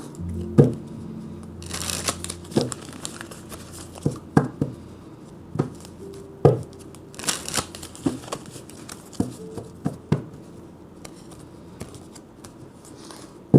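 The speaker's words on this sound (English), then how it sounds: "let's get a few shuffles over here." Cards are shuffled repeatedly nearby, with crisp riffling bursts and soft taps in an irregular rhythm, fairly quiet.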